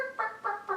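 A chicken clucks three times in quick succession, close and clear, with short tonal bursts and brief gaps between them.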